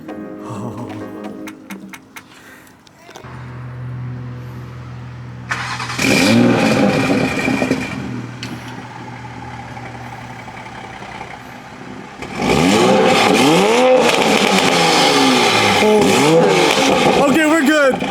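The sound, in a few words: MK5 Toyota Supra revving with Boost Logic titanium exhaust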